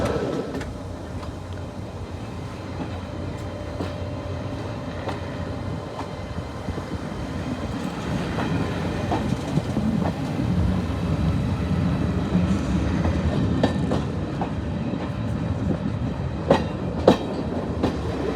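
A Swanage Railway diesel train runs away from the River Frome toward Norton, Corfe Castle and Swanage, a steady rumbling ride with clickety-clack of the wheels over rail joints heard from on board, growing slightly louder later.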